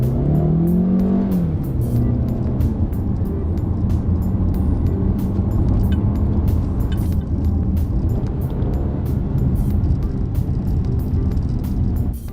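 Jetour X70 Plus SUV, 2023 model, driving in manual transmission mode, with a steady engine and road drone, a short rising rev near the start, and continuous cabin noise throughout, no talking.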